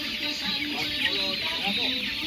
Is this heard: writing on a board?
no